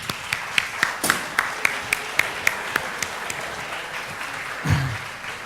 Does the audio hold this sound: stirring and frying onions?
no